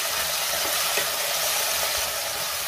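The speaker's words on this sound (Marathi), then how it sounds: "कढीपत्ता घालायचा आहे, वटाणे घालायचे आणि त्यातच मी काजू पण घातले। हे 1 मिनिटभर आपल्याला चांगलं परतून घ्यायचंय।" Green peas, cashews and curry leaves sautéing in a pan for a masala rice, a steady close hiss of frying that runs evenly throughout with no voice.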